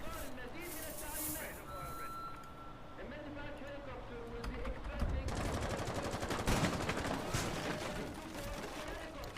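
Video game gunfire from a North American Challenger League finals esports match: a dense burst of rapid automatic shots in the second half, following quieter in-game sounds, with voices underneath.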